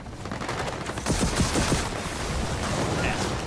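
Gunfire in Gears of War 4 crackles in dense, overlapping bursts with a heavier cluster of shots in the middle, loud and steady throughout.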